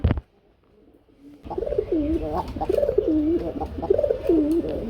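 After a short thump and quiet pause, pigeons coo close by in repeated rolling, throaty phrases against a soft background hum.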